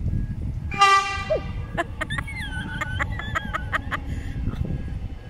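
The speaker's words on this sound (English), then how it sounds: "I can hear another train" A train blows its horn with long, wavering tones, backed by clanking, rattling noise and a steady roar of wind.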